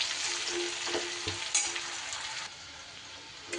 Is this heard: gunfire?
no